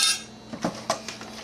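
Spoon knocks against a bowl while garlic mashed potatoes and cauliflower are mixed, a few light clinks and taps spaced irregularly, fairly quiet with no talk.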